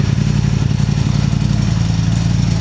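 A Ducati motorcycle engine runs steadily up close, a loud low throbbing pulse that holds even throughout with no clear gear-change break.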